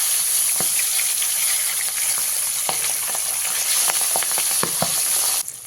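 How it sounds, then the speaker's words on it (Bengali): Pabda fish frying in hot oil in a pan, a steady close sizzle and crackle with scattered sharp pops and spatters throughout, ending abruptly. "মাছটা এখানে খুব বেশি কড়া করে ভাজা যাবে না"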